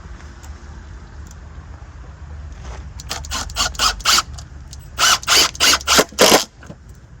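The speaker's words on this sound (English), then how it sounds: "take some 3-inch deck screws, and we're going to put 2 screws in each 2x6" Three-inch deck screws driven into 2x6 lumber for a multi-level raised garden bed, a series of short whirring bursts building into four or five loud, evenly spaced driving pulses up close.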